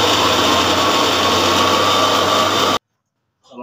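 An electric blender whirring steadily to thicken homemade burger mayonnaise, a loud, even, high-pitched motor whine that cuts off abruptly, followed by a moment of silence and a faint trailing noise.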